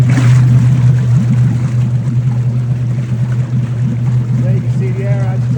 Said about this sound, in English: The air blower.